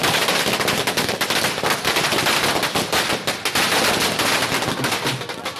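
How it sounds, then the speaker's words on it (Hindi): Strings of firecrackers burst at a street celebration held by Congress party workers, a dense, rapid crackle of sharp pops that runs loud and unbroken throughout. "कहीं जश्न में फूटे पटाखे"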